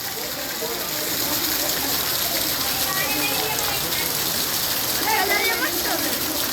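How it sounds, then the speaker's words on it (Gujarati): Heavy afternoon downpour in Vankaner, a dense continuous hiss of rain pounding surfaces, loud and close, with faint voices in the background. "વરસાદ પણ જોરદાર પડી રહ્યો છે"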